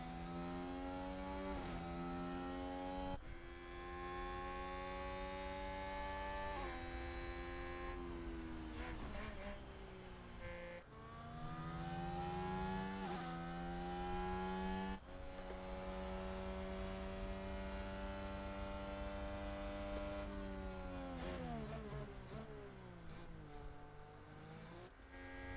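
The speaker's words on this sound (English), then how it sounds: "Oh, so there is different engine sounds." Formula 1 car engines in the F1 Manager 2022 racing game scream continuously, their pitch repeatedly climbing and dropping through gear changes as several cars race closely together, loud and steady without speech.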